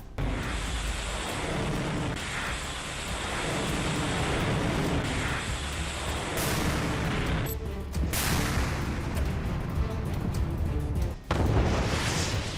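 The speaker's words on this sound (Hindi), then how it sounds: "ये तस्वीरें पूर्वी यूक्रेन की हैं, जहां एरियल अटैक के बाद तोपखाने का मुंह खोल दिया गया।" Artillery fire in eastern Ukraine, heard as a loud, dense wash of rumbling booms and blasts that merge into near-continuous noise, with a sharp break and a strong burst near the end.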